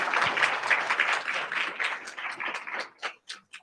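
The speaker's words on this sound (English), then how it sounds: "Yes, another round of applause." Applause from an academic conference audience after a panel presentation, a burst of clapping that breaks into scattered, separate claps and fades out over a few seconds.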